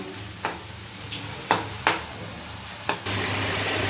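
Boondi batter dropped into hot oil, sizzling and frying steadily while a spoon or ladle clatters against the pan in several sharp taps, the frying growing louder and fuller near the end, with no talking.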